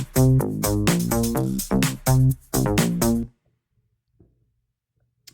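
The bass line of a produced beat plays as a run of short, punchy, rhythmic tonal notes in a few bursts, then cuts to near silence.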